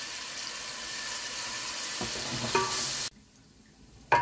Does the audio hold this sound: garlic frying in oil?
yes